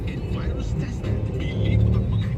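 Heavy morning road traffic in the Philippines, a steady loud rumble of car engines and vehicles passing close by, with a swell of nearer engine noise toward the end.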